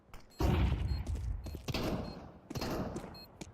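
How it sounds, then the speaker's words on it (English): A flashbang goes off during a competitive shooter match: a sharp, loud burst followed by sustained noisy rumble and a second impact near the end, with gunfire-like bursts mixed in. "Deploying flashbang."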